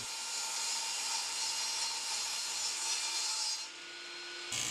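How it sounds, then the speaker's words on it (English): Table saw fitted with a dado blade cutting slots into a layered wood core: a continuous high, rasping whine of blade through wood, loud and steady, dropping as the cut ends, then restarting briefly. "I use a dado blade to cut the width of the slots where the tubes will fit"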